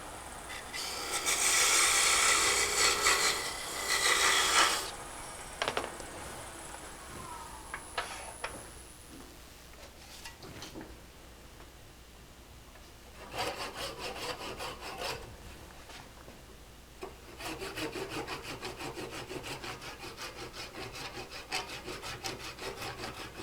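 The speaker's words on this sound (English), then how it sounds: "So you go ahead and part it off now." Lathe parting tool cutting through a small wooden ring box bottom, a rasping scrape in several bursts with quieter gaps between, close and moderately loud, no talk.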